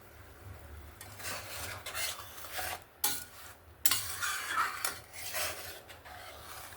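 Fish curry in Panjabi style is stirred in a pan with a spoon, giving soft, continuous scraping strokes broken by two sharper clanks against the pan, all fairly quiet and without talk.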